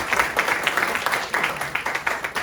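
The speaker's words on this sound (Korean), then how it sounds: "큰 박수 부탁드립니다." Applause from the audience at a legislative policy forum in Gwangmyeong, steady crowd clapping in even pulses that runs for the whole moment at moderate loudness.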